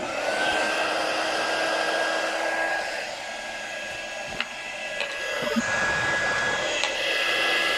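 Hair dryer blowing steadily at close range to dry a mug, a loud continuous whirring hiss that holds for several seconds, dips slightly midway and rises again, with a few faint clicks of handling.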